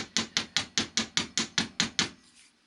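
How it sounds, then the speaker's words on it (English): A jewelry wire tip is flattened with a hammer. About ten sharp, evenly spaced metallic taps come close and clear, then stop, leaving a quiet tail and no speech. "I'm just going to hammer that little bit"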